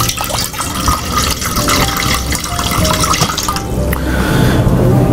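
Tap water runs and splashes steadily into a cooking pot being filled for boiling on a stove, a loud continuous gush alone with no voices.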